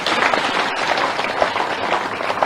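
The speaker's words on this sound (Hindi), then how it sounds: "हितानंद जी का आज तो जोरदार ताली बजा के स्वागत कीजिए" A crowd at a BJP office event in Bhopal gives a party leader a steady, dense round of applause, loud and continuous throughout with no voices on top.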